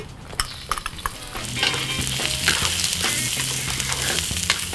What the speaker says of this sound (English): Now when the wok's hot, I'm going to add some oil and some garlic and onion.